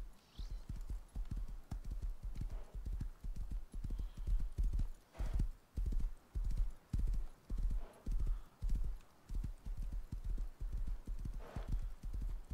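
Horse hooves clip-clopping in a steady, rhythmic gait in the survival video game Rust, repeated evenly spaced hoofbeats close by, with a faint snort or whinny and no talking.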